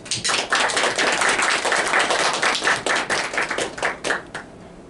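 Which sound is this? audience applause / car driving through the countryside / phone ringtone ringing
audience applause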